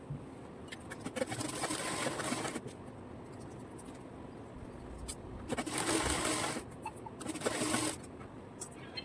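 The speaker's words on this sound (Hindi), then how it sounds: "अब आप इसको इस तरह से रखिए आपस में और साइड की सिलाई लगाइए।" A sewing machine stitching the side seams of ladies' pants, running in several bursts of rapid whirring stitches separated by short pauses, close and clear with no talk.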